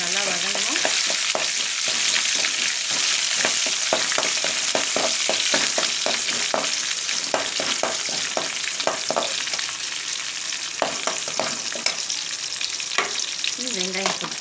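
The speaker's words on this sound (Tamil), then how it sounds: "பூண்டு கொஞ்சம் நல்லா வதங்கணும்" Whole garlic and curry leaves fry in hot oil, a dense, loud and constant crackle of rapid pops and spits that runs on without pause, with no one speaking.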